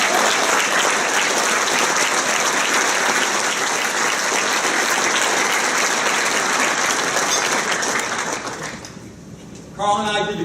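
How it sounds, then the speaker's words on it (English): Steady, full applause from guests at a soccer coach's retirement party rolls on for several seconds, then thins out as a voice starts speaking near the end. "and I think they deserve a round of applause."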